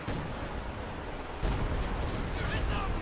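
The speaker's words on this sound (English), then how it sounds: "I think he initiated zoning artillery." A dense artillery barrage in the Company of Heroes 2 video game, a rumbling wash of heavy blasts and booms that grows louder partway through, with a voice talking underneath.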